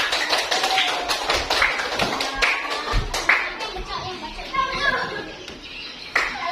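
Children applaud group 2 in a classroom, with steady scattered clapping throughout and kids chattering and a teacher's voice running under the claps.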